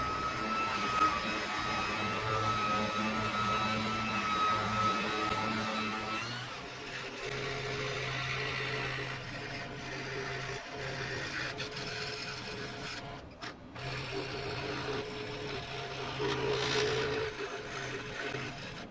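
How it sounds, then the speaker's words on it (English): Wooden box parts are sanded with a power sander that gives a steady, moderate whirring hum, its pitch shifting partway through as the tool works across the pieces, with no talking. "So I will get these parts all sanded up."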